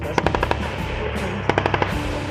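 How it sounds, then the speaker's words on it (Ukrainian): Mobilized soldiers firing various weapons during military training near Zhytomyr: loud, close bursts of rapid automatic gunfire, one volley early and another after a short lull, over a constant outdoor background. "мобілізовані вояки стріляють з різних видів зброї"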